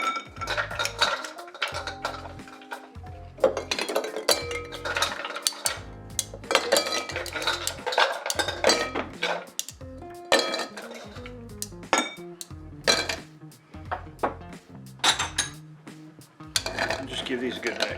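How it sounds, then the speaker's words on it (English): Ice cubes for Vieux Carré cocktails drop and rattle into mixing glasses in repeated loud clinking bursts, separated by short pauses, with sharp bar-spoon and glass knocks close by. "let's get some ice in our mixing glasses"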